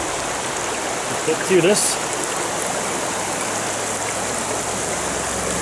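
A river flowing around stepping stones on a waterfall hike, a steady broadband rush of water running throughout, close and constant, with a brief spoken phrase early on.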